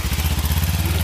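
A motorcycle engine rides into a garage, its loud, close, pulsing putter running steadily for about a second.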